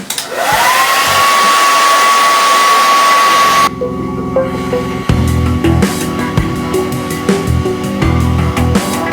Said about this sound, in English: Then you simply take a blow dryer, hot and high, and proceed